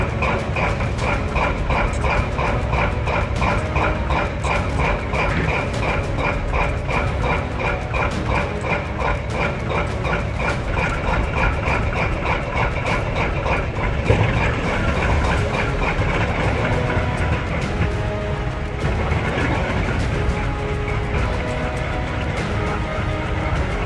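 Three EMD SD-70ACE diesel locomotives at the front of a very heavy freight train restarting it: a loud, steady, continuous engine roar with rhythmic mechanical clatter, persisting without a break and with no talking.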